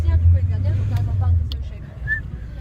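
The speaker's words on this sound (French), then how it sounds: "Je suis dehors, donc vous entendez les voitures." Cars pass by outdoors on a street with a steady low rumble that swells and fades, while people talk nearby and a brief chirp sounds near the end.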